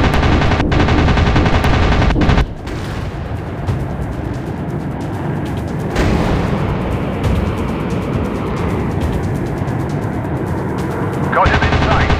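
Rapid bursts of machine gun fire from a WW2 air combat game featuring the Gloster Meteor, loud rattling volleys mixed with engine roar while a voice talks over them.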